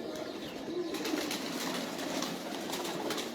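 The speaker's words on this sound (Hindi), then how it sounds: "ये देखिए दोस्तों, जितने कबूतर आए हैं काली पलक के" Pigeons of an old black-eyelid breed at a loft, a steady low cooing bed with soft bird murmurs and faint rustles throughout, no voices.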